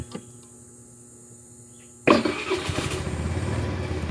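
A Flex 125i scooter's engine starts with a sharp click and catches after a quiet idle hum. It then settles into a close, steady running putter, with no talk over it.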